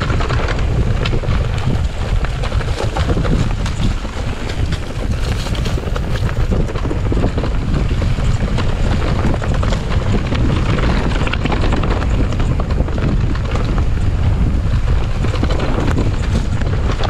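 Strong wind buffets the microphone in loud, continuous gusts on a rocky mountain bike trail, a rough low roar lasting throughout, with no voices.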